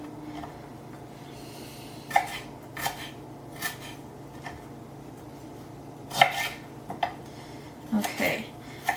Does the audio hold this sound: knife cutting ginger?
yes